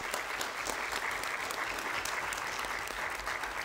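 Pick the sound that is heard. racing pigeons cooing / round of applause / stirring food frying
round of applause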